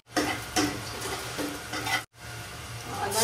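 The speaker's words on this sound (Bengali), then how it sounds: "জিরে ফোড়ন" Cumin seeds tempering in hot oil alongside dried red chilli, bay leaf and nuts in a home Bengali kitchen, a close, steady sizzle with stirring scrapes, briefly cut off before resuming.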